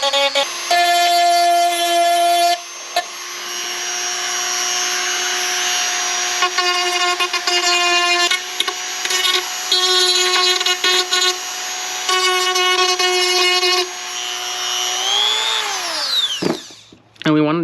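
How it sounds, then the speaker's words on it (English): A Dremel rotary tool grinding the edges of a broken plastic motorcycle fairing: a loud, high whine that runs in long bursts with short pauses, the pitch wavering under load, then spinning down to a stop at the end. "So we're gonna kind of Dremel the edges."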